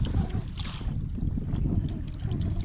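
Strong wind roars and buffets constantly over open water, with low rumbling gusts and no voices.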